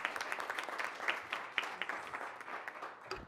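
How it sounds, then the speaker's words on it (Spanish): Audience applause at a conference session, a moderate crowd clapping steadily with a few sharper individual claps standing out, fairly faint and continuous. "Brindémosle también un fuerte aplauso"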